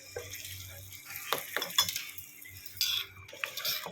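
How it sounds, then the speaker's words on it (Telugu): A spoon stirring crushed coconut chutney with asafoetida in a bowl, irregular soft scrapes and light clinks of utensil against dish, close by, with no talk. "ఇంగు అవన్నీ దీంట్లోకి వచ్చేటట్టు కొంచెం చట్నీ వేసి కలుపుకోవాలి"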